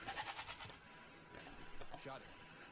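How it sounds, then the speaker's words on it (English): Goats bleating in a real-time strategy video game, a few quiet nasal bleats from the game audio, with someone talking over them. "Did steal all of these goats as well."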